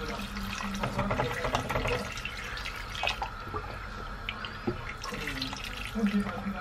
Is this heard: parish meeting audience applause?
no